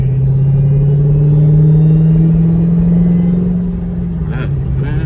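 A manual-transmission SRT car cruises in third gear just after a shift, its engine a loud, close, steady droning hum that swells slightly and then eases off near the end.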